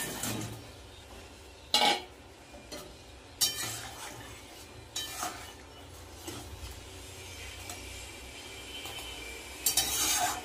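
Fried soybean balls dropped into a boiling curry in a pot, with metal utensil clinks and scrapes against the pot in scattered bursts over a low bubbling simmer, close by, no talking.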